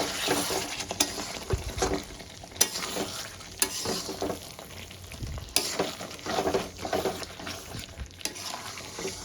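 Butter chicken masala curry sizzles in a pan while a spoon stirs it, with irregular scrapes and knocks against the metal over a steady frying hiss. Nobody talks.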